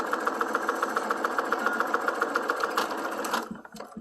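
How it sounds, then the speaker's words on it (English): Sewing machine running steadily through a bloomers seam, a fast even needle rhythm for about three and a half seconds before it stops, followed by a few faint clicks. "So I just throw it back through the machine"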